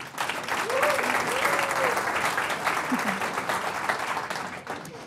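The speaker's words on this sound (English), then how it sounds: "Let's give them all a big round of applause." Brunch audience at a live post-election TribCast podcast taping applauds its guests, Texas lawmakers Celia Israel and Larry Gonzales, with steady, moderately loud clapping throughout and faint voices rising briefly within it.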